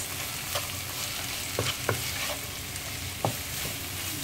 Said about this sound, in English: I've just thrown in the carrot and the cabbage. Give it a good mix.